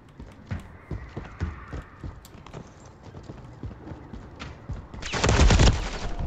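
Gunfire in a Call of Duty one-on-one match: a loud burst of shots near the end, after a stretch of quieter footstep-like knocks and clatter.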